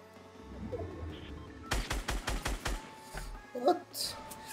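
A quick burst of six or seven sharp gunshots in rapid succession in Fortnite, with quiet voices talking before and after.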